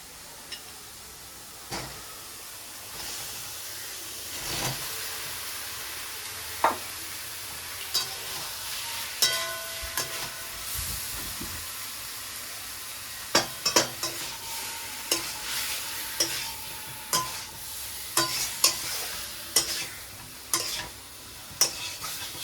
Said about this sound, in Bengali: আলুর সঙ্গে মশলাটা ভালো করে কষিয়ে